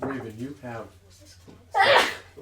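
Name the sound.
sneeze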